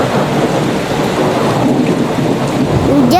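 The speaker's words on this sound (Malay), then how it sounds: "Hujan itu apabila rintik-rintik air yang banyak jatuh dari atas langit ke" Heavy rain falls steadily in a loud, dense hiss with low thunder rumbling beneath it throughout, and a brief higher tonal call near the end.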